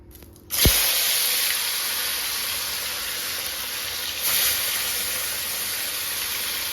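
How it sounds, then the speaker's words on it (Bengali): Fish dropped into hot oil in a home kitchen wok, a sudden loud sizzle that settles into a steady, even hiss of frying, with a second surge of spattering a few seconds later. "চলো মাছগুলোকে আগে ভেজে নিই"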